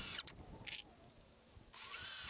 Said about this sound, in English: Just drill your holes and set your screws, making sure that the pieces all align just perfectly.